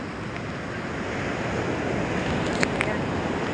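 Steady broadband wash of sea surf rolling in during a typhoon, continuous and moderately loud, with wind buffeting the microphone throughout.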